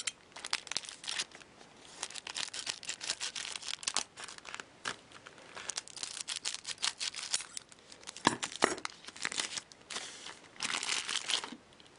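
Foil packs of KHL hockey trading cards are torn and opened with steady crinkling and crumpling of wrappers. Brief tearing bursts occur throughout, close up with no talk.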